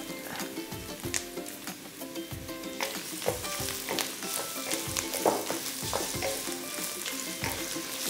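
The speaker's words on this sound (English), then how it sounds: "And now the remaining of shallot, I will fry that." Shallots and tofu fry in hot oil for Thai stir-fried rice noodles, giving a steady close sizzle with crackling pops and occasional scraping stir strokes, and no talk.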